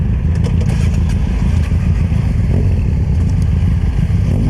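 Benelli and BMW motorcycles ride through Lisbon, a steady loud low engine rumble with road and wind noise, close and continuous through the whole short stretch.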